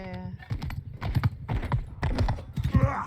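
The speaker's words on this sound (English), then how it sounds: "I hear horse, I hear something. Horse coming." Horse hooves clip-clop in a steady rapid rhythm in the video game Mount & Blade II Bannerlord, fairly close and mixed with other game sounds and clatter.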